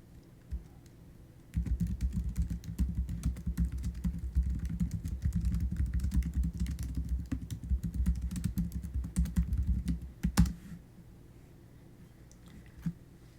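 Instructions being typed on a computer keyboard in a quick, continuous run of close key clicks for about nine seconds, with quiet before and after.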